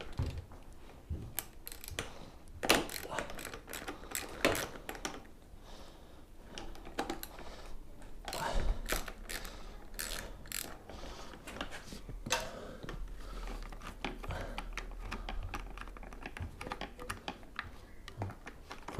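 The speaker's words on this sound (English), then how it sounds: "They take them out now, which is a 12mm socket." Ratchet with a 12mm socket loosening screen frame bolts on a 2015 Triumph Street Triple R motorcycle, giving irregular close clicking bursts that come and go across a quiet workshop background.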